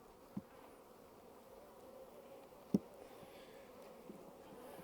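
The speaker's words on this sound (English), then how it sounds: "There's a lot of bees in here." Honeybees droning in an open hive during an inspection, a faint steady hum with a few soft knocks and bumps, close by and with no one speaking.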